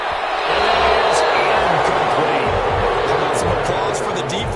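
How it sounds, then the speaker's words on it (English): A loud, steady stadium crowd roar and applause fill a football video game, broad and sustained, with a commentator's voice running over it. "Some applause for the defense there."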